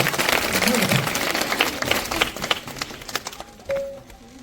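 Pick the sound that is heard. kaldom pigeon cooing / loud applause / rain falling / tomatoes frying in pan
loud applause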